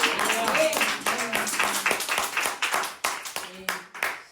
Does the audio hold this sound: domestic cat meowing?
no